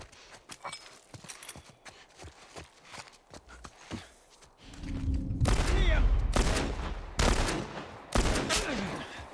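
Gunfire in The Last of Us Part I: sparse sharp shots and footsteps early, then a dense, loud burst of repeated gunshots with heavy low rumble, separated by short pauses.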